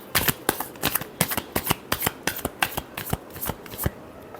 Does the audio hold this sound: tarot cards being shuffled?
yes